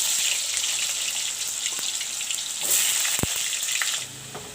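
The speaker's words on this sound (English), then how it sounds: "Put in the potatoes to turn brown." Potatoes frying in a pan of hot oil for a masala curry, giving a steady close sizzle throughout with a brief sharp tap near the end as the hiss drops off.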